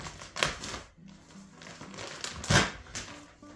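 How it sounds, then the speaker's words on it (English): A plastic bale of Pro Mix premium all-purpose potting mix is cut open: faint crinkling and a couple of sharper crackling bursts of plastic, close by and fairly quiet, with no talking. "I have this bale of Pro Mix. Nothing fancy. Premium all-purpose mix. Ideal for seed starting in indoor and outdoor planting. And I'm just gonna cut it open."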